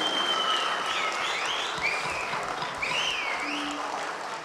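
Applause from an audience at an album launch night rises in a dense, continuous patter of clapping, fairly distant and even, with faint whistles riding over it and a brief voice underneath.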